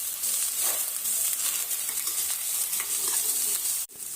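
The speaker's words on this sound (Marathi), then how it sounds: "आता भेंडी आपल्याला व्यवस्थित डाग पडूपर्यंत परतून घ्यायची आहे" Okra sizzles steadily in a kadhai as it is stir-fried until browned for a green-chilli bhendi bhaji, a close, continuous hiss with faint stirring scrapes, cutting off abruptly near the end.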